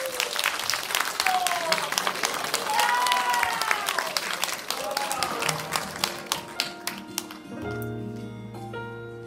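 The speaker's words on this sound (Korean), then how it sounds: "큰 박수 부탁드립니다" An audience at a Korean traditional gugak song performance breaks into sustained, dense clapping with scattered whistles and cheers. The applause thins to a few claps as instrumental tones begin at the end.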